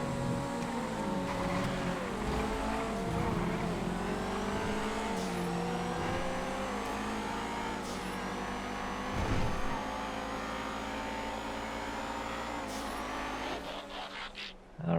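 A car engine drives hard in the GTA FiveM video game, a sustained revving drone that rises and falls with gear shifts and throttle changes over fifteen seconds, loud and steady, with a brief drop near the end.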